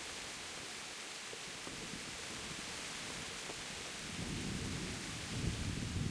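Thunder rumbling in the Kingdom Come: Deliverance video game, a steady wash of rain-like noise with a low roll that swells toward the end, heard alone without voices.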